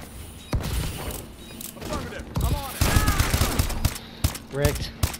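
Gunfire in the video game Call of Duty: Advanced Warfare, quick rattling bursts and single shots scattered through the moment, with a person speaking over them.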